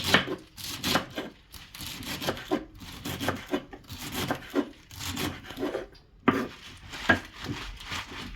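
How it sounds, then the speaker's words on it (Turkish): Swiss chard being chopped with a knife on a cutting board in a home kitchen, repeated rasping cuts in irregular bursts at close range, with no talking. "Susamızı kavurduktan sonra şimdi pazımızı doğruyoruz"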